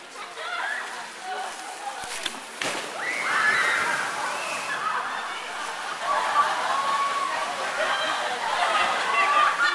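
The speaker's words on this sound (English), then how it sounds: "It has a giant piston at one end to generate waves, and a cinder block wall to destroy at the other." Waves from a large piston-driven research wave tank crash and slosh against a cinder block wall, giving broad continuous splashing with sharp impacts near the start, close and loud.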